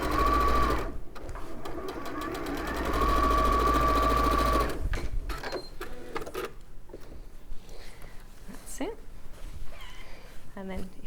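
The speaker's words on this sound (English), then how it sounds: "we're simply sewing just along that raw edge to begin with" A sewing machine stitching along the raw edge of fabric, a fast steady whirring run that stops partway, followed by quieter handling clicks and rustles while a person talks.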